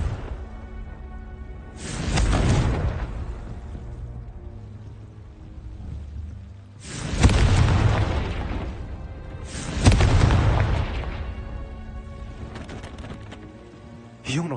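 Confringo fire spells go off in the Hogwarts Legacy video game as three heavy booming blasts, each a sudden roar that slowly dies into rumbling debris, with quieter game ambience in between.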